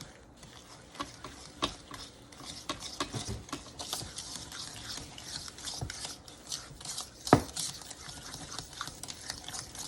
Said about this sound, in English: You just mix all that together.